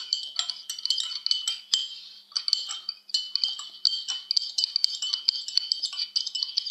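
A spoon stirs salt in a glass during a simple kitchen experiment, giving light, rapid clinks and scrapes against the glass that run almost continuously, faint and close, with no voices.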